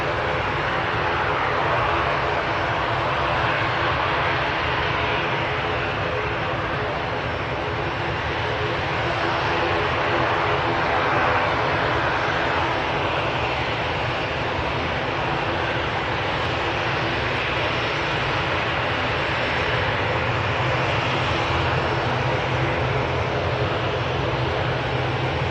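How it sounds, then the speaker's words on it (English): Loganair ATR 42 turboprop departing Manchester Airport, heard as a continuous distant engine drone with a steady low rumble and broadband wash that holds level for the whole stretch. "And there's also a Loganair ATR 42 going out"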